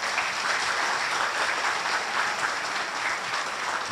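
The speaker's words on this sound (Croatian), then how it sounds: "Ja bih vas molio još jedan aplauz za njih." Sustained, even applause from a concert audience greeting guests from Hungary at a folk ensemble performance, a dense steady wash of many hands clapping at moderate distance throughout, with no talk over it.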